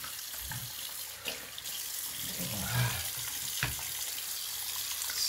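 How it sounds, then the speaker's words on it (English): A bathroom tap runs water while shaving lather is rinsed off, giving a steady close splashing flow with a few brief surges and gurgles, heard alone for a few seconds. "I fully rinse the lather off"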